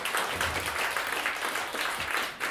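Audience applause in a jazz club as a saxophone quartet's multi-saxophonist is introduced, a dense steady wash of clapping filling the room for a couple of seconds.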